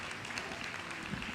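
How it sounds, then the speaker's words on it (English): Applause for a glassblowing demonstration team, a dense, even patter of many hands clapping with no break over a brief moment. "Huge round of applause"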